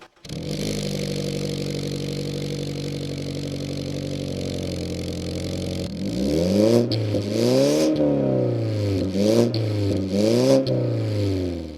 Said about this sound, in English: the exhaust sounded like it was leaking